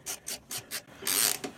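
Ratchet wrench loosening a rear suspension bolt on a Suzuki DR650 motorcycle, turned anti-clockwise: four quick rasping bursts of clicks, then a longer, louder ratcheting run and one last short burst, close up with no talking.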